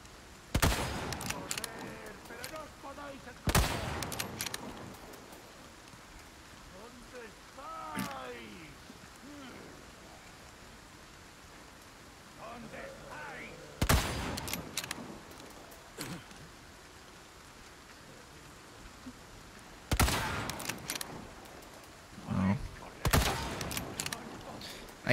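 Sniper rifle shots ring out in the video game Resident Evil 4 Remake, four or five sharp loud cracks spaced several seconds apart over a steady rain-like ambience, with a voice speaking between them.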